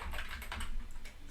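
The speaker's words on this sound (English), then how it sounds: "now I will type network" Rapid clicking of computer keyboard keys while a network command is entered on a Cisco router, a short close burst of keystrokes with no talking.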